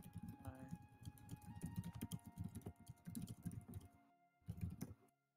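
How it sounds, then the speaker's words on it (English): Fast, furious typing on a computer keyboard, a dense run of quick clicking keystrokes heard close up over background game audio, with a short pause before a final burst. "What's all this furious typing, Serenade?"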